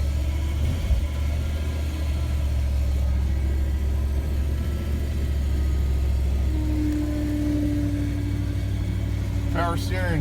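A car engine idles steadily after a cold start on a cold day, with a low, constant rumble, a faint whine rising near the end.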